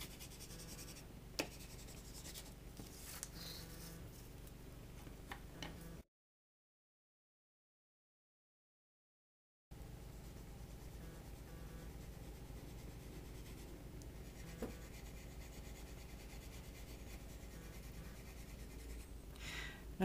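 Graphite pencil shading on paper with the side of the lead to sketch a stormy sky, heard as a soft, steady rubbing scratch close up, broken by a short silent gap partway through.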